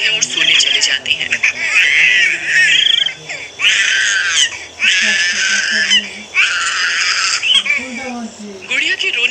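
A little girl sobs and wails in a cartoon horror tale, voiced by an actor: loud, close bursts of high crying that repeat in uneven waves over a low, murky background.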